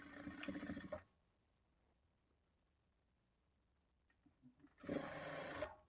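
A sewing machine stitches the lining of a blouse in two loud, steady bursts, about one second at the start and another near the end, with a quiet pause and a few faint clicks between them.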